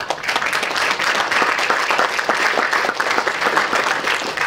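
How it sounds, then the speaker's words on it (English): Audience at a spring homeowners' association membership meeting applauds steadily for several seconds, a dense, even wash of many hands clapping fairly close, with no speech over it. "he deserves a round of applause for his work on that"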